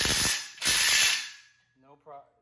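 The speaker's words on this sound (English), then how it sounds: "let's see how this Makita impact wrench," A Makita 40 volt impact wrench tightens bolts on a PRx Performance Profile Pro rack, giving two loud buzzing, rattling bursts. Brief speech-like sounds follow faintly at the end.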